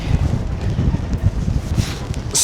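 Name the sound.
strong wind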